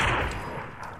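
Rapid gunfire from a sniper-focused video game duo match, a dense loud burst of shots with echoing rumble that fades slightly over about a second, with no talking.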